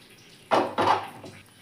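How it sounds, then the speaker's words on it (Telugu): Milk is poured into a pot of broad bean curry in two short splashing pours, close and fairly loud, with no talking. "ఇప్పుడు కూర మునిగేంత వరకు పాలు పోసుకోవాలి"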